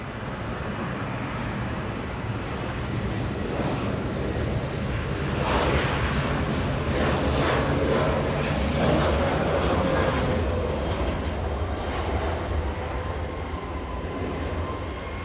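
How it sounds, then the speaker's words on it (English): An 18-year-old Southwest Boeing 737-700 jet departs Los Angeles International Airport with a loud, steady, broadband engine roar that swells slightly midway and holds for the whole stretch. "Southwest 314 flying to Sacramento, California. 737-700."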